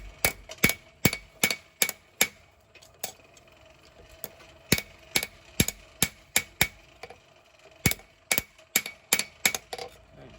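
A hammer strikes a hot steel backwoods knife blade during forging, sharp ringing blows in quick rhythmic bursts of several strikes separated by brief pauses, close and loud.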